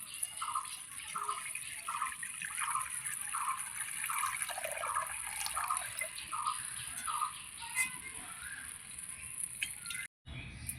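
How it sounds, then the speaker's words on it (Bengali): Water is poured into a kadai on the stove while cooking moong dal with bottle gourd, a continuous trickling splash with rhythmic gurgles running for about ten seconds before stopping. "জল দিয়ে দিচ্ছি"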